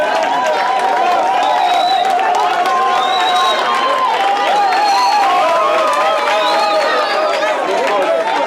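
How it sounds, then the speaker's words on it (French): Sustained audience applause and crowd noise at an evening dinner gathering in a family setting as a doctor is invited up, dense and steady throughout, with cheering and chatter mixed in. "le docteur Jeff Talaja, sous vos applaudissements"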